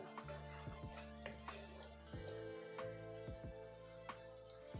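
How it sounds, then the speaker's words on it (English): Vegan chickpea curry paste fries in a pot with a steady low sizzle, while a spoon stirs and scrapes and clinks against the metal, fairly faint and with no talk. "in the Caribbean we call this burning of the curry"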